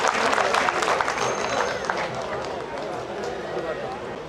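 A dense wash of applause from a large crowd welcoming the Chief Minister at the Uttarakhand Mahotsav 2021, steady and loud throughout and slowly easing off, with voices mixed in.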